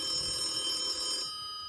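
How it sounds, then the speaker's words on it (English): A kitchen telephone rings in a video game, a steady electronic ring with bright tonal bands that runs close and loud for just over a second, then cuts away to a quieter tail. "The kitchen phone rings."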